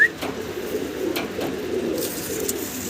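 Pigeons coo softly in a loft or exhibition pen, a few low, rounded coos repeating at an unhurried pace, fairly close, with faint background noise.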